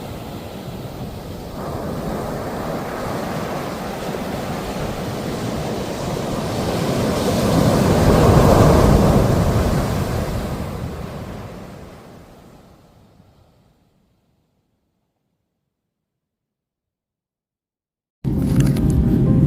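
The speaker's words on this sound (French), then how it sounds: "je m'attendais pas à ce que les vagues soient aussi puissantes" Powerful ocean waves crash and roar against the rocky shore below Punta Cometa in Mexico, a loud, continuous surge that swells, fades to silence, then bursts back in at the end, with no talking.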